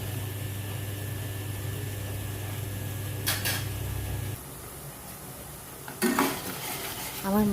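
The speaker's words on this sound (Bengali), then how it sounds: "দিয়ে এটাকে আমি খুব সুন্দর করে কষাবো যতক্ষণ না তেল ছাড়ছে।" A ground spice paste is stir-fried in oil in a pan for vegetarian ghugni, with a steady hiss under it, then clattering utensil scrapes and metallic knocks against the pan near the end, and no talk.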